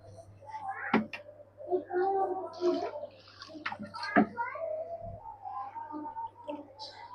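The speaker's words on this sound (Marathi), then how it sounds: "अजून एक वेळा ह्याला धुवून घेते स्वच्छ" Water sloshes and splashes in a vessel as food is rinsed, with sharp clinks of utensils and a steady hum in the background.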